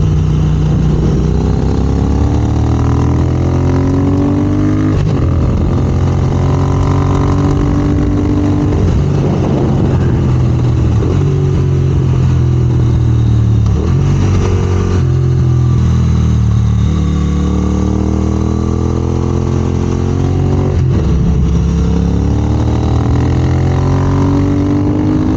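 A Triumph Speed Twin motorcycle engine pulls steadily uphill, loud and close, its revs rising and falling through gear changes under constant wind rush for the whole stretch.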